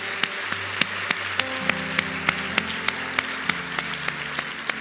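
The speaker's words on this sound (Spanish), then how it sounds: "Dale un aplauso al Señor." A church congregation claps in a steady rhythm, with sharp, evenly spaced claps over sustained organ or keyboard chords during a sermon service.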